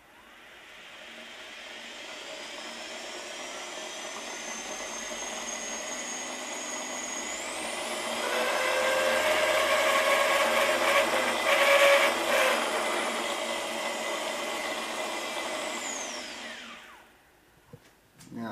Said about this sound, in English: Looks like our drive shafts don't quite like being spun up to high revs without loading on them.